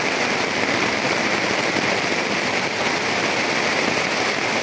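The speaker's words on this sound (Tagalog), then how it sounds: "Grabe talaga yung ulan" Heavy rain pours down steadily, a dense, loud hiss of water hitting surfaces close by without letup.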